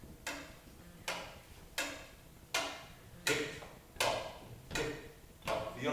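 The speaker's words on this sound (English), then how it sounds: "Tick-tock, the Uncle Ben atomic exploding clock will go off in a minute" A clock ticks in a radio play, eight crisp, close ticks at an even pace of a little under one per second, each with a short ringing tail, heard alone over faint background hiss.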